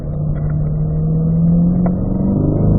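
A race car accelerates on a track in a lead-follow session, its engine a loud, steady mid-pitched drone that climbs gradually in pitch under throttle, close and continuous throughout.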